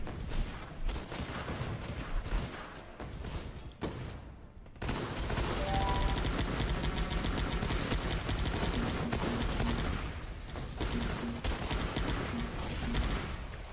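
Sustained volley of rapid gunfire and explosions from the strategy game Guns Up!, a dense, loud barrage of overlapping shots running for about nine seconds after a brief quieter stretch of scattered shots.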